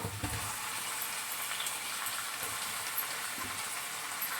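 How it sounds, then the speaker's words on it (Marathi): Onion frying in a butter tempering of mustard seed and cumin for pav bhaji gives a dense, continuous sizzle, with faint stirring knocks underneath and no voices. "आता कांदा टाकायचा"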